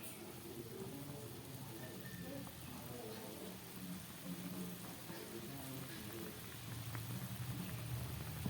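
Spicy mustard-and-poppy-seed curry with green chillies bubbling in a pan, a steady soft crackle and sputter of boiling liquid running throughout at low level, with no one speaking.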